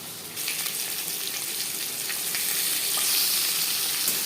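Thin-sliced peeled potatoes frying in hot oil for a katla fish curry, a loud, even close-up sizzle that starts abruptly and holds steady with light crackle, no talking.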